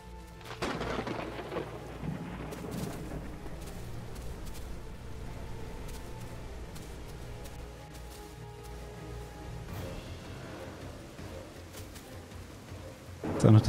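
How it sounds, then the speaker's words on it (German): A thunderstorm with rain in the dinosaur survival game The Isle Evrima: continuous rainfall hiss with rolling thunder rumbles throughout and a sharp loud crack near the end. "Ist auch noch das übelste Unwetter."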